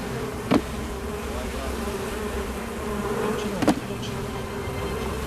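Honeybees buzz steadily at a beekeeper's hive, a dense continuous drone that fills the clip, with two brief louder knocks or bumps near the start and later.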